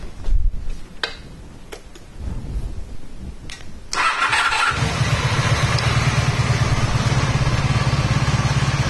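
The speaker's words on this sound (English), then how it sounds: "I'm going to start the bike up, and you're going to see what happens when the motorcycle is charging." A motorcycle engine cranks with a few clicks and short attempts, then catches and settles into a steady, close idle with an even rhythmic pulse, during a charging-system test.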